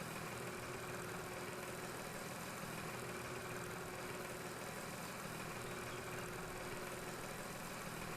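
A tractor engine idles steadily in the farming game Farm Expert 2017, producing a constant low mechanical hum without change throughout, very quiet and alone.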